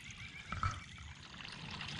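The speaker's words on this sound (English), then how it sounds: "you can see that little tiny bit is coming out of the discharge of the hose here" A thin stream of water trickling out of a sump pump discharge hose during pipe cleaning, a steady soft pouring and gurgling with a brief splash near the start, close and alone.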